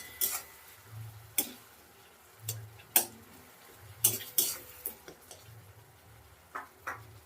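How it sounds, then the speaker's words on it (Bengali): A spatula stirs and breaks up softening tomato gravy in a pan, making scattered scraping clicks and taps over a low, steady sizzle. "ভালো করে নাড়িয়ে চাড়িয়ে খুন্তির আগা দিয়ে একটু ভেঙে তুলে নেব।"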